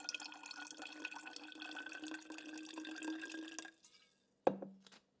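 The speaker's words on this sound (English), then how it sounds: "So I'm gonna do about 1/4 cup of apple cider vinegar." About a quarter cup of apple cider vinegar pours into a glass with water, a close, quiet continuous trickle for several seconds that stops, followed by a single sharp clink.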